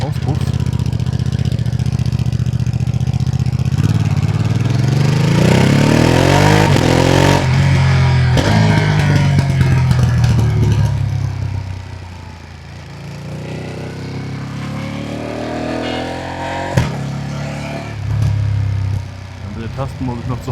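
A 2025 Ducati Panigale V2S motorcycle engine and exhaust rev loudly up and down close to the tailpipe, with rising and falling pitch sweeps, a dip near idle, then further revs.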